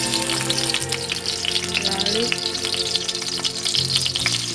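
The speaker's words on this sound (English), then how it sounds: "when the pot is hot, you can add the garlic" Garlic sizzling in a hot pot, a steady, loud crackling fry that runs throughout with a few louder bursts, no voices over it.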